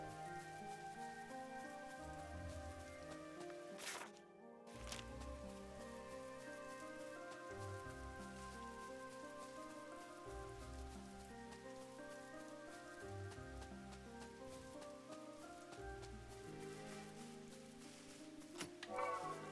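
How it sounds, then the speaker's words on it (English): Rain in a forest in the video game Chained Echoes: a soft, steady patter under a looping game music track with repeating notes, continuous and even throughout with no talking. "it's raining now in this part of the forest"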